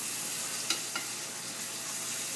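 Chopped shallots saute in a pan, a steady soft sizzle with two brief knocks as a wooden spatula moves them around.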